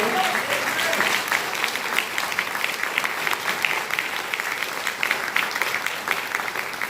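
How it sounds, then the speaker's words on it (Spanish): Sustained applause from a church congregation at a revival service, dense steady clapping that fills the space throughout, with no clear pauses. "Denle un aplauso."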